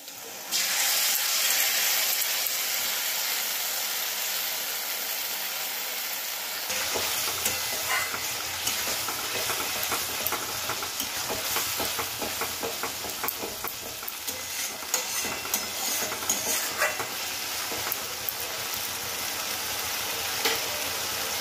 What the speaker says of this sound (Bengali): এবার আমি টমেটো বাটাটা দিয়ে দিচ্ছি।